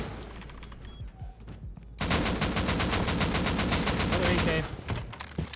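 An AK rifle fires a long, loud burst of rapid automatic shots in the video game Rust. It comes after scattered quieter gunfire and game noise, and the burst ends abruptly.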